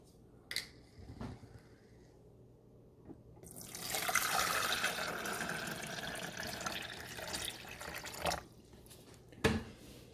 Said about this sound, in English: So we're going to put our vinegar in.